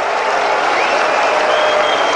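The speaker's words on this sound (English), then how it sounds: "Mixed reaction now from the crowd" A tennis crowd applauds after a hard-fought women's match between Sharapova and Schnyder, a steady wash of dense clapping that holds at one loud level for the whole stretch, with a few scattered calls mixed in and no clear voice rising above it.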